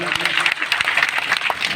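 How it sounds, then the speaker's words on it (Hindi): Steady, dense clapping from a crowd at an outdoor protest-support gathering in India fills the clip, loud and continuous, with a Hindi-speaking voice over it. "एक बार जोरदार तालियां"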